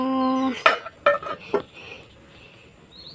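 A metal lid is set onto a pot of eggs boiling on a gas stove, giving three or four sharp clanks in quick succession after a brief tone, then faint background.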